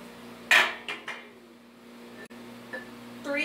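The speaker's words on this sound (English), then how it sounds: "first things first, you will need these cake pans." Metal cake pans for a blue velvet cake are set down and handled on a kitchen counter, giving a few sharp clanks and knocks followed by quieter shuffling.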